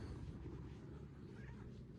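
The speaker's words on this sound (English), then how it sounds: "You're just a cat." Cat meowing softly at close range over a low background rumble, with a faint drawn-out vocal tone.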